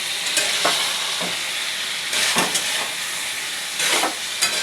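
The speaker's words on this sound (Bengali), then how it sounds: "এখন আমি একটু চিংড়ি মাছগুলো দিয়ে দিচ্ছি, আর একটু নাড়াচাড়া করে নেব" Prawns are stirred in a kadai over cooked-down masala, giving a continuous hissing sizzle broken by about four loud, close scraping bursts from the spoon and shifting pan, with no talking.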